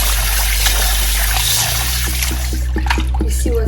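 Water pours and trickles into a cooking pot, a steady splashing stream that starts under a low hum and grows brighter and more gurgly toward the end.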